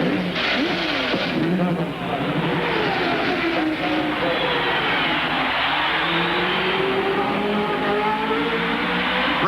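Indy 500 race cars during a pit stop at the 1986 Indianapolis 500, a steady loud engine roar and crowd wash filling the whole stretch with a broadcast voice talking over it.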